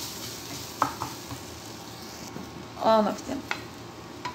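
Vegetables with onions and rice sizzle steadily in a pan, broken by a few scraping stirs and clinks, while a voice talks briefly.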